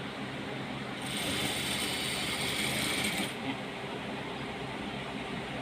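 A sewing machine stitches a 10 cm curtain hem in one steady burst of about two seconds, then stops, leaving quieter room noise.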